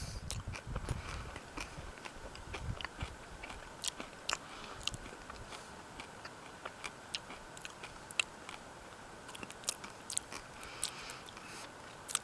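Crunchy, irregular bites and chewing of a homemade trail snack while hiking in the High Sierra mountains, close to the mouth, with faint clicks scattered steadily over a quiet outdoor background and no talking.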